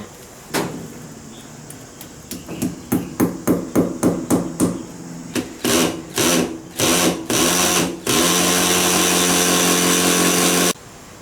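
Power drill boring holes to mount hooks for an off-grid hybrid solar inverter, heard as a run of short repeated bursts that lengthen into sustained loud drilling, close by with no talking.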